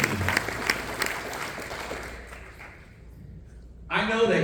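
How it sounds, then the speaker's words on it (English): Audience applause at an ACN Rockstar Summit in DFW, a dense wash of clapping that fades over a few seconds, followed by a loud burst of sound near the end. "So give yourself a big round of applause for investing the time and the opportunity."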